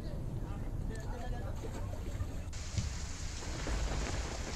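Heavy monsoon rain falls across Bahucharaji taluka in Mehsana, Gujarat, as a loud, dense, continuous roar of close rainfall that grows slightly fuller partway through.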